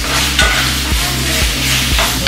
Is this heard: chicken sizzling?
yes